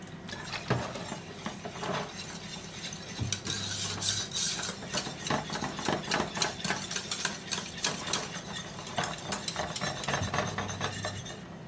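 A whisk stirs cheese sauce in a pan, with continuous rapid scraping and clinking against the metal, steady and close, no voices.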